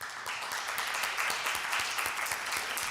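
Audience round of applause at a live startup pitch event with an investor, steady dense clapping throughout, fairly close and sustained without talk.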